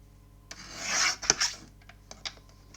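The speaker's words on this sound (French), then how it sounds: "Je me rends compte que je suis occupée à faire du bruit avec la guillotine" A paper guillotine cutter slices scrapbook paper with a few rasping, scraping strokes, one longer swell followed by shorter scratchy passes. The sound is close and fairly quiet, with no talking.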